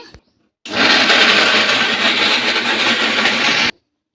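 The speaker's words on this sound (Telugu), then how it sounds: "కొంచెం కొంచెంగా అయితే మిక్సీ పట్టుకోవాలి" A mixer grinder blends tomato pulp in one loud, steady motor whir lasting about three seconds, starting and stopping abruptly with silence on either side.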